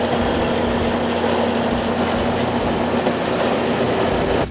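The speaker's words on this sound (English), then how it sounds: "I was able to get a really cool recording from right next to the driver of the bulldozer engine." Loud, steady bulldozer engine rumble captured right beside the driver at a junkyard, a dense low drone with a constant hum running the whole time and no pauses.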